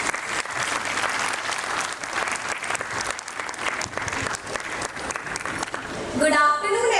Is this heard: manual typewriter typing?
no